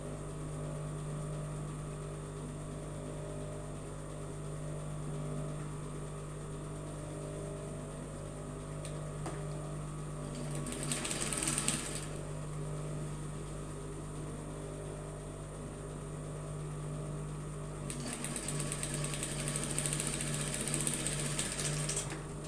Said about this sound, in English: So I would sew from this point to where my notch is on this side.